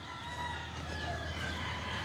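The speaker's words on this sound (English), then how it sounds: "A lot of them are native chickens." Native chickens kept in a pen cluck and call at moderate distance over steady farmyard background noise, several birds overlapping with no talk.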